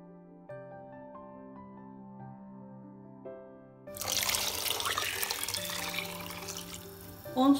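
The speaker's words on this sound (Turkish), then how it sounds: "On su bardağı sıcak su ilave edip" Hot water pouring into a pot of tarhana soup, a sudden steady rushing splash that starts partway through after a quieter stretch of kitchen sounds and continues loudly to the end.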